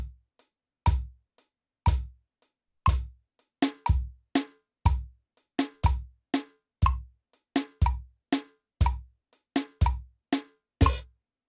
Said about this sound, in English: A lot of artists can even switch and playing the accent on the downbeat.